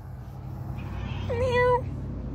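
A single drawn-out meow with a rising then falling pitch, fairly close, over a low steady background hum.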